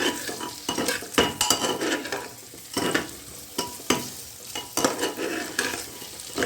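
Potato pieces sizzle in hot oil in a pan for a Bengali chicken curry, with a spoon stirring and scraping in irregular bursts and the frying hiss rising and falling between strokes, no talking.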